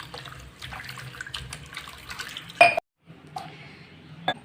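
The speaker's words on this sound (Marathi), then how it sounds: "पाण्याने धुवून घेऊया आधी स्वच्छ।" Mango seed pieces are washed under a running tap, a close splashing stream with clatter of pieces in a sink, cut off by a short silence before more water and handling sounds resume.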